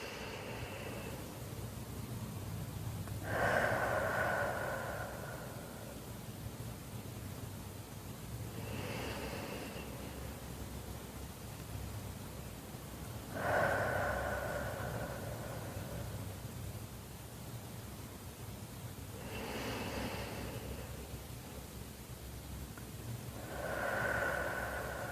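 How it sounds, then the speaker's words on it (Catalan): Slow, deep breaths are taken three times, each a soft, airy inhale and exhale rising out of a steady hiss of background noise, with long even gaps between them. "Respira lentament 3 vegades."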